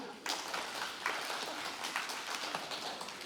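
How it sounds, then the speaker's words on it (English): Concert audience giving volunteers a round of applause, a continuous hiss-like mass of clapping from many hands, moderately loud, with a few sharper claps poking through and faint voices underneath. "So if we could have the Angels round of applause for the OIOU volunteers."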